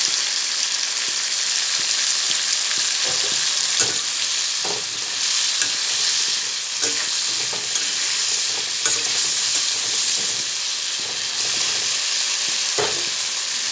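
Pointed gourd frying in a pan with salt and turmeric, a loud continuous sizzle close up, broken by regular scrapes and knocks of stirring, with no voices.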